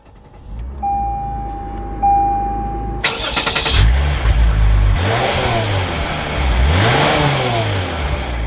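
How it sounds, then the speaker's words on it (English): A 2021 Lexus RC 350 F Sport starts up: a few chimes, then the starter cranks and the engine catches with a loud rev flare that settles into a deep idle, with more blips following, close and clear. "now once inside with my foot on the brake, we can go ahead and start it up."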